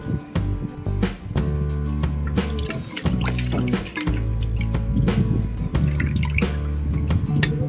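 Water runs and splashes steadily while a pork leg (pata) is washed before cooking sinigang, with dripping and clattering of the meat and hands in the sink throughout, no talking.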